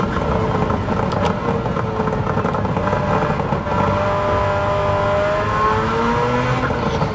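A '91 Suzuki Cappuccino fitted with a 13B rotary engine accelerating in Gran Turismo 7, a loud, buzzing rotary wail climbing through the revs with rising tonal sweeps, close and continuous.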